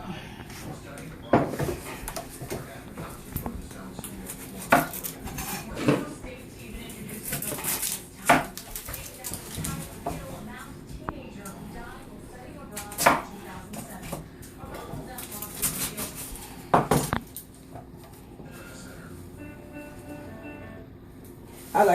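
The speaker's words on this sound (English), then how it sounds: "I'm going to go over here to the counter and chop up my onions so I can put over it" Onions are chopped on a home kitchen counter, knife strikes landing irregularly among clattering dishes and utensils, with a person talking throughout.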